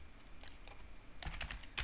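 Quick, light keystrokes on a computer keyboard during data entry, in short irregular bursts of clicks that are fairly quiet and close, with no voices.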